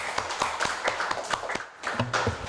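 A small audience at an international labour policy forum claps to welcome a professor to speak, the scattered, uneven claps of a modest group sounding close and fairly loud.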